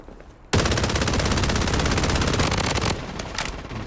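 Gunfire in the shooter game Blood Strike, with a sustained, loud rapid-fire burst of automatic rounds that runs for several seconds before tapering into a few scattered shots.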